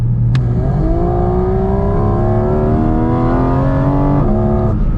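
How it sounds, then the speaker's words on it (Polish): A Porsche GT4 RS with PDK gearbox kicks down under full throttle climbing the Kaunertal Glacier Road, the engine note rising loudly and steadily from inside the cabin, with a quick shift near the end and a click at the start. "No to teraz zobaczcie, co się dzieje, jak zrobię kickdown"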